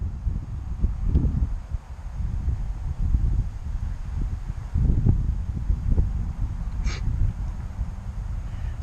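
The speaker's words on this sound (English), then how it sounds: "It's windy out though" Outdoor wind buffeting a microphone near a church, low rumbling gusts that swell and fade irregularly throughout, with no speech.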